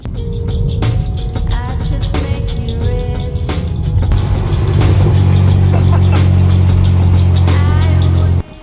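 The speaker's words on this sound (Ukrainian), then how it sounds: "Ну Таке трохи щось там хтось газує" During winter drifting with BMW E30 and E34 cars, an engine revs repeatedly and loudly up close, with rising and falling throttle bursts that build into a sustained high roar before cutting off abruptly.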